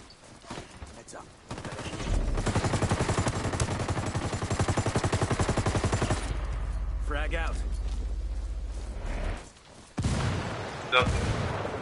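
Bursts of Ghost Recon Wildlands automatic gunfire rattle in sustained, rapid volleys, broken by short pauses and a few sharper single shots, with voices talking over the shooting.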